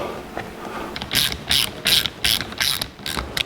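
Powder-coated bolts with anti-seize driven into a rebuilt Dana 300 transfer case from a 1982 Jeep CJ7, heard as five or six quick bursts of ratchet clicking, close and crisp, with short pauses between strokes.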